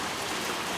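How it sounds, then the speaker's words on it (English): Steady rain falling in a suburban back yard in the aftermath of Hurricane Ike, a continuous soft hiss with no distinct drops standing out, alone and without voices. "You see, we're still getting some rain."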